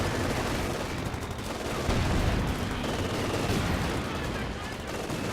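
Continuous battlefield gunfire and explosions in the WWII strategy game Company of Heroes 2, with an anti-tank gun firing amid a steady roar of small-arms fire and distant booms, loud and unbroken.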